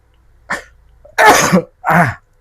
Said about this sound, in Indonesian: Langsung bersin gue.